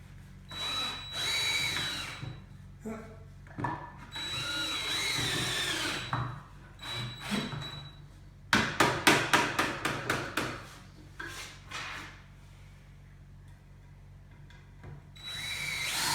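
A power drill driving lag bolts into a wooden stand for a flash dryer, heard as several whirring bursts of rising pitch separated by pauses, then a quick series of rattling impact clicks near the middle.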